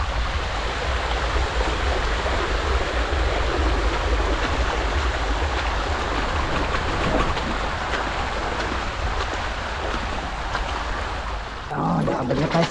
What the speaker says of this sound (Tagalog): Agos ang tubig dito sa Bakid.